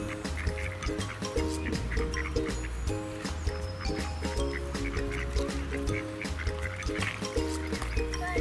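Ducks quack repeatedly while eating in the water of a park, amid a steady, busy outdoor din and trickling water, the calls overlapping at close range.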